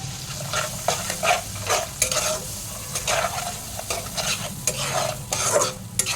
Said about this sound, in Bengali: এবার মশলাটা ভালো করে কষিয়ে নিতে হবে, তাই মশলাটা ভালো করে কষিয়ে নিচ্ছি